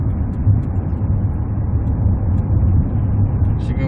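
Hyundai Tucson 1.6 gasoline turbo with upgraded Ghost Alpha intake and exhaust accelerating smoothly through gears, a steady low engine drone heard from inside the cabin, constant and fairly loud.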